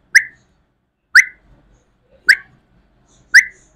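A female Java sparrow gives four short, sharp chirps, evenly spaced about a second apart, clear and close against near silence.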